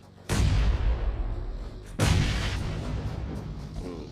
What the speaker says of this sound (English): He sends out that nade.